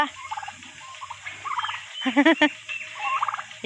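Domestic fowl, apparently turkeys, call near at hand with repeated gobbling bursts, the loudest cluster arriving mid-clip over a low steady hum, with quieter clucking before and after.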